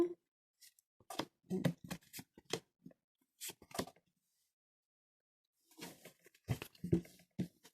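Tarot cards slid and spread out across a table, a series of soft close papery swishes and taps in two bursts with a quiet pause between, no talk over them.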